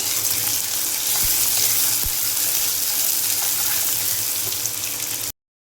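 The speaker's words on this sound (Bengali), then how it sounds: "পেঁয়াজ কুচো দিয়ে দিলাম" Chopped onions frying in hot oil for spicy chicken kosha, a loud, steady hiss and sizzle close up that runs without a break and then cuts off abruptly.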